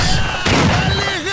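A shotgun blast in S.T.A.L.K.E.R. Shadow of Chernobyl, a single loud, close boom with a sharp broadband crack that decays over a second, set against steady game ambience and harmonic drone.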